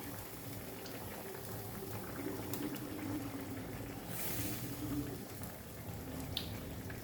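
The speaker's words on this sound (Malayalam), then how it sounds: "കറി നന്നായിട്ട് തിളച്ചിട്ടുണ്ട്" A fish curry boils in a pot with a steady, soft bubbling and gurgle, close but quiet and continuous, with no voices over it.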